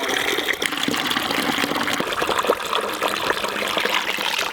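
Water gushes hard out of newly installed pipes, a loud, continuous rushing splash with no pause across the whole stretch.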